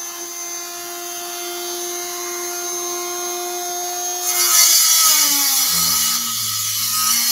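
A tool cutting through 1/8 inch steel gives a loud, steady whining tone with bright overtones, which shifts and roughens partway through as the blade bites deeper.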